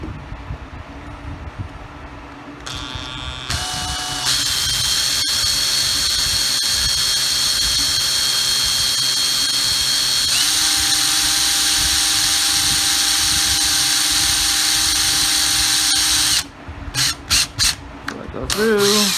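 Power drill boring a hole through an airsoft gun part while assembling a CronoArms Robo-9 kit for a KWA M93R, a sustained high whine for about twelve seconds, then short stop-start bursts as the bit backs out.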